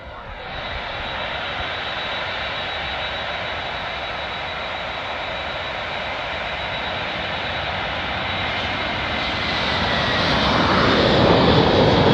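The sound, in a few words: Turkish Airlines Airbus A330 taking off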